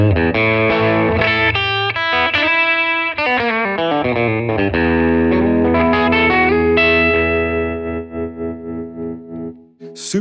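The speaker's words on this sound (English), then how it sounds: "And I'll play a little bit here on the bridge." A Fender Custom Shop 70th Anniversary Broadcaster electric guitar with Alnico 3 pickups plays on the bridge pickup, with bright chords and single notes and a few choppy rhythmic stabs, then a sustained ringing chord that fades, close and unaccompanied.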